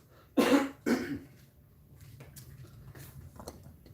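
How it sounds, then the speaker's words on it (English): A man clears his throat in two rough, close bursts about half a second apart, followed by quiet background ticking and faint rustling. "I've got to clear my throat"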